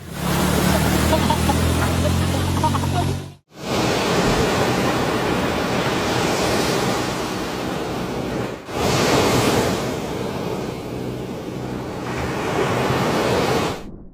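A huge ocean wave surges during a natural disaster, heard as a loud, sustained roar of crashing surf and wind-blown spray broken by two abrupt cuts, with no voices.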